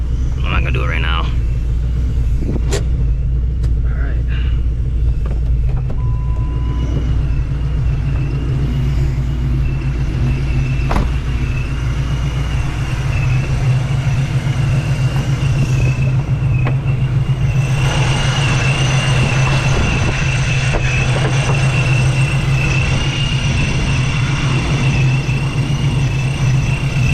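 Supercharged 2004 Mustang GT V8 heard from inside the engine bay while driving, a steady loud low rumble with a constant whine running through it the whole time.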